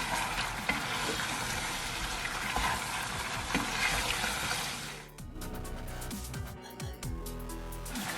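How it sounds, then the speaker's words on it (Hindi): Mutton pieces with turmeric and salt stirred in a hot pot, a steady loud sizzle and frying hiss with scraping strokes, briefly easing before the spoon clatters through the meat again, close up with no voices. "ठीक है, अच्छे से इसको मिक्स करेंगे।"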